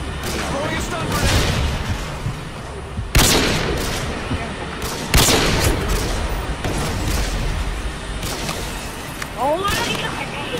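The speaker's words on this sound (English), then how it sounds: "Throw your stun grenade!" Stun grenade blasts go off amid steady gunfire in a shooter video game, with two sharp, loud booms standing out over continuous rattling shots and shouting voices.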